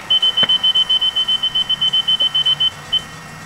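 A self-balancing electric vehicle gives a rapid series of about twenty short, evenly spaced high-pitched warning beeps, close and clear, ending with one last isolated beep.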